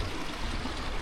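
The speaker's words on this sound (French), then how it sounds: "on rejoint le petit ruisseau du Riscop" Small stream, the Riscop, flowing and trickling steadily, close by and continuous, with no voices.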